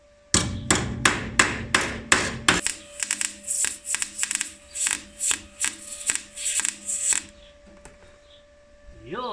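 A hammer strikes a metal bracket into place on a boosted Mini: a rapid run of about eight sharp close blows, then a slower series of lighter taps, with a steady hum underneath.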